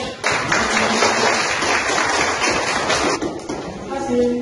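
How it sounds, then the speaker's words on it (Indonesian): Pupils in a classroom clapping, a dense burst of close hand claps that thins out toward the end while a voice speaks over it. "Tepuk tangan dulu."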